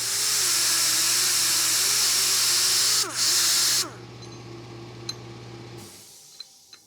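A power grinder takes material off a Jeep JK steering knuckle, loud and close with a steady high whine that dips briefly, then spins down and stops, leaving a few faint clinks.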